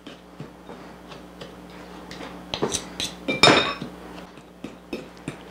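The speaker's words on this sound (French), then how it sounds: "on essaie de tout brasser pour que ça prenne vraiment bien" A utensil stirs a pineapple dessert mixture with soft butter in a bowl, making scattered light clinks and scrapes that build to a louder cluster of knocks against the bowl, close and without talk.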